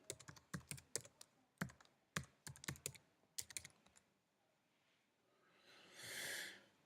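Quick bursts of keystrokes on a computer keyboard as a username and password are typed, irregular clusters of close, crisp clicks with pauses between, then a soft breathy sniff at the end in a quiet room.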